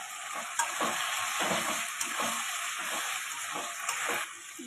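Shrimp, potato and pointed gourd are stir-fried in a pan, a steady sizzle with rhythmic spatula scrapes and stirring strokes repeating about every half second, moderately quiet and close.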